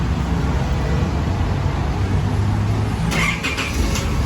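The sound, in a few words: car engine starting by remote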